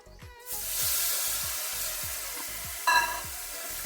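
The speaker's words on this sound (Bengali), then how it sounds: "দিয়ে ভালো করে কষিয়ে নিচ্ছি" Ground spice paste sautéing in a pan for a Bengali chicken gizzard and jackfruit curry, a steady loud sizzle with a spoon scraping and stirring at regular beats, one brief brighter clink near the end, no voices.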